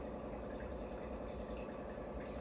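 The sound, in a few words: water filter filling with water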